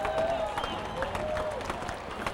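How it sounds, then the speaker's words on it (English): A baseball crowd at a 1988 Columbus vs Omaha minor-league game claps, a diffuse scattered patter heard from a distance over the ballpark's ambient murmur. "they are clapping now"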